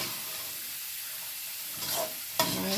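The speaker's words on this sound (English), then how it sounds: "I'm going to stir that up." Rice being stirred in a cooking pot with two cups of liquid, a soft continuous hiss and sizzle with a couple of louder scraping stirs near the end, close and alone.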